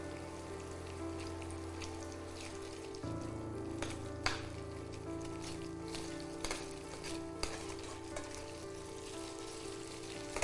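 Paneer sizzling and frying in a pan while being stirred, a steady crackling fry with occasional scrapes and clinks of the spoon, close and continuous with no talking.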